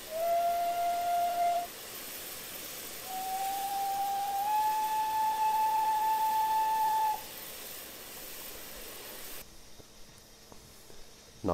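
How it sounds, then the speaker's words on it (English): A GWR 1500 Pannier 0-6-0T steam locomotive in Train Simulator Classic sounds one short loud whistle blast, then a longer sustained whistle that rises slightly in pitch, over a steady hiss of steam. "Does have twin whistle. Got a brake whistle and a regular whistle."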